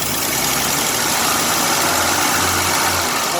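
A 1926 Pontiac engine idles low and steady after months of sitting unused, a loud, close, continuous rumble with a slightly uneven low throb and no voices over it.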